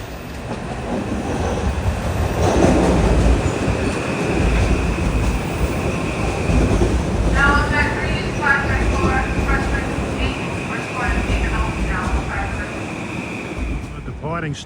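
A Metro-North New Haven Line train passes near Greenwich, Connecticut, a steady loud rumble of railcars with rhythmic wheel clatter and wind buffeting the microphone, brief squeals midway, filling the whole stretch.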